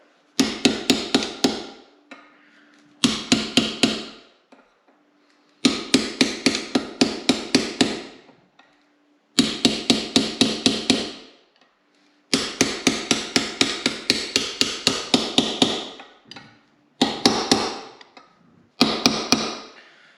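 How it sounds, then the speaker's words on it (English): An aluminum drift is hammered to seat a rear axle bearing on a New Holland TC26DA tractor: rapid bursts of sharp metallic strikes, several blows per burst, separated by short pauses, close and clear. "now I've got a aluminum drift to go the rest of the way"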